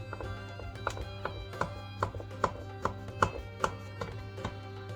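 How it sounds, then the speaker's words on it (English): A knife cuts through layered baklava with a steady series of crisp, evenly spaced crunching taps, close and fairly quiet, with no talking. "hold gently and slice one by one layer. You need to go the knife in"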